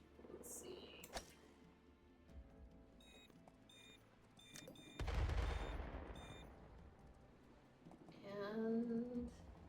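Video game gunfire at a firing range comes in a few scattered bursts, one louder rumbling volley midway, mixed with beeps and game sounds while people talk.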